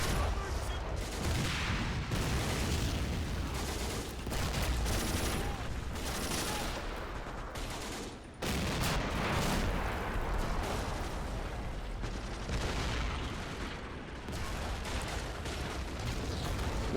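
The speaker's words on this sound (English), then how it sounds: "The mortars are firing for full effect as well." A video game town battle in Finnish winter rattles with near-continuous machine-gun fire and heavy mortar blasts, dense and sustained, with a sharp break midway before the fusillade resumes.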